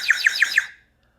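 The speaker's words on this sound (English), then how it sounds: "when you blow in the tube here, the water goes blub, blub, blub, blub" Four quick warbling chirps in an even rhythm, a bright bird-like whistle from a water whistle, close and clear, then silence.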